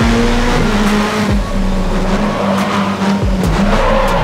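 In GRID Autosport street racing, a loud race car engine roars steadily at high revs with periodic gear-shift dips while tires squeal and skid through corners, heard up close from on board.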